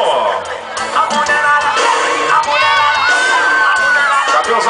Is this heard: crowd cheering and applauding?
yes